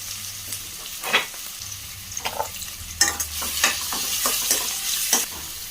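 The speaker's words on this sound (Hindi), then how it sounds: "ऑनियन और मिर्ची को ऑयल में ऐड कर लिया है" Chopped onions and chillies sauté in oil with a pinch of salt, giving a steady close sizzle broken by sharp scrapes and clicks of a spoon stirring the pan, with no talking.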